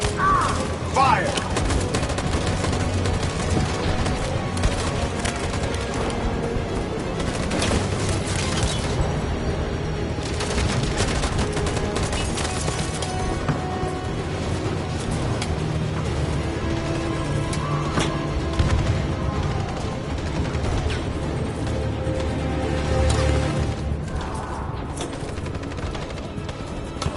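Soldiers open fire in the video game Detroit: Become Human, a dense, continuous barrage of gunshots and booms that rolls on loudly for the whole stretch, with voices faintly mixed in.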